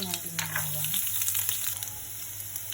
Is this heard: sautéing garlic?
yes